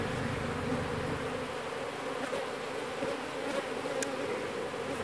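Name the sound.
honeybees buzzing in a hive in an abandoned house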